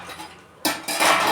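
Small steel kitchen utensils set down on a counter in a home kitchen, giving two quick clinking, clattering impacts of metal on metal, close and fairly loud, with no talk.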